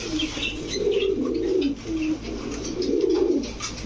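Pigeons at a pigeon shop, racer, shorting and giribaz breeds, coo in soft, throaty rolling phrases, close by, repeating over a low steady background hum.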